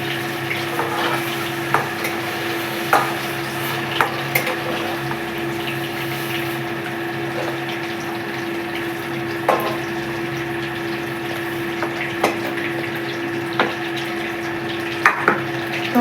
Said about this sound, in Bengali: পনিরগুলোকে আমি ছেড়ে ছেড়ে ভেজে নেব